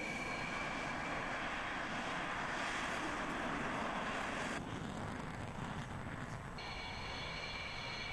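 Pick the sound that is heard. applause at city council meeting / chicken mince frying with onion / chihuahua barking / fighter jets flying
fighter jets flying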